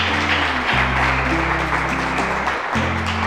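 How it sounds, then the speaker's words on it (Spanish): A church congregation claps in a sustained burst of applause while sustained low music plays underneath, with steady density throughout and no talking. "Un fuerte aplauso"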